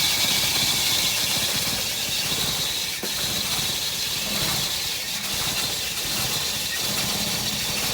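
A Toyota 22R engine idling just after a cold start, a loud, steady mechanical drone with a high squealing whine and hiss running throughout and brief dips as it struggles to stay running.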